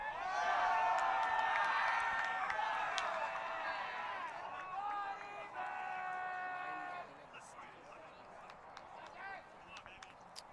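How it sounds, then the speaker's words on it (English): A crowd erupts in cheering during a sports playoff final, a loud sustained roar that swells and then fades after several seconds, with a commentator's voice over it. "Well, we heard the crowd erupt."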